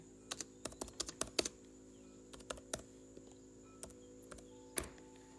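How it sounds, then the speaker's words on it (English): Someone types on a device with one finger, producing a slow, irregular run of soft, close taps with uneven pauses between them over a faint background hum. "let me see if I can type on here"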